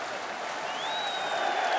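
Boxing arena crowd applauding after the Ricky Hatton versus Kostya Tszyu fight, a sustained wash of clapping and cheering from a large audience, steady and slightly rising, with a faint whistle over it.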